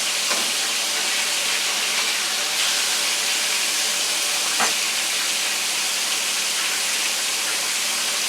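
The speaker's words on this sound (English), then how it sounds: "our chicken's been cooking for about 5 minutes" Crispy fried chicken frying in hot oil for a Thanksgiving meal, giving a steady, dense, hissing sizzle that runs unbroken and fairly loud throughout, with no talking.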